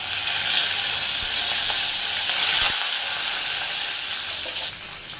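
Urad dal and curry leaves sizzling in hot oil for a roadside-style kara chutney, a steady loud frying hiss with faint crackles and pops throughout, no talking.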